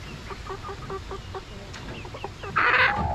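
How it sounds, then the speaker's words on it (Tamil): A backyard rooster clucks in a quick run of short, close clucks, then a louder burst near the end, over steady outdoor background noise; no talking. "இதோடு சேர்ந்த மாதிரி இன்னொரு சேவல் ஒன்று இருக்குது"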